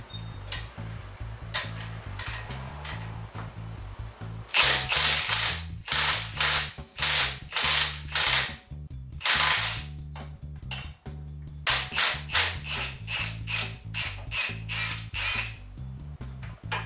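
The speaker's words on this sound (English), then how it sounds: "we're going to impact it off and have this set on the negative setting so it doesn't spin" An impact wrench set to reverse loosens and spins off an 18mm factory nut during a 2-inch lift kit install, with repeated loud rattling bursts of hammering, short pulses separated by brief pauses, close up and with no talking.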